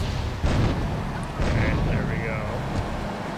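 Rocket launcher blasts in GTA III, a few heavy booming explosions in quick succession with rumbling low end and a rough, continuous roar of game noise between them.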